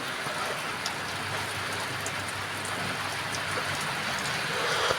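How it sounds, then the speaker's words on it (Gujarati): Steady rain pouring over a farm field at midday, a dense even hiss with soft patter of drops, moderately quiet and continuous throughout, no voices. "કેવો વરસાદ આવે"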